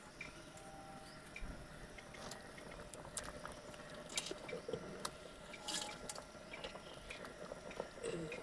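Water boiling in a cooking pot for a lentil and fish-egg fritter dish, soft bubbling, drips and squishy liquid sounds going on throughout, close and low in level, with faint background noise and no voice.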